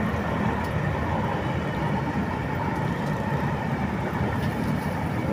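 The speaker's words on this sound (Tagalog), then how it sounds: "Daming motor sa flyover," Steady, dense traffic rumble from motorcycles and other vehicles crossing a flyover near an LRT line, heard from below beside a fishing area, a continuous close wash of engine noise with no clear breaks.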